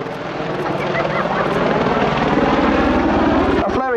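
A 10-ton Apache helicopter roars steadily overhead at an air show, loud and close, its dense rotor and engine noise filling the air without a break.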